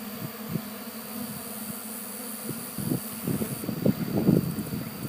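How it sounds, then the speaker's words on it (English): Bees hum in a low, wavering drone close to the microphone during winter open-air feeding, swelling louder toward the end, with soft rustling in the background. "Just being bees."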